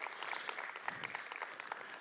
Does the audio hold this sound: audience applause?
yes